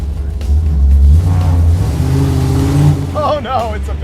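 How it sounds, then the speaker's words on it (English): Loud 1968 Dodge Charger rat rod V8 roaring up close during a burnout, its deep rumble swelling and revving steadily for several seconds before easing off as voices break in near the end. "you really need to do a burnout down this street"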